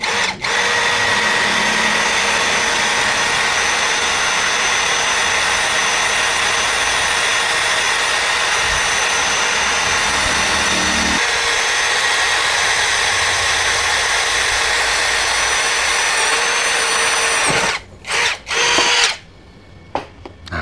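A cordless drill with an LXT battery, pressed hard at speed 1, whines loud and steady for a long stretch, its pitch dropping partway, then stutters and cuts out near the end as the drill bit breaks.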